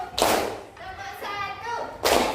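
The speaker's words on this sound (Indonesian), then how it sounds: "Tepuk satu," Students in a school classroom clap together on a counted cue: two loud, sharp group claps with a voice speaking in the gap between them.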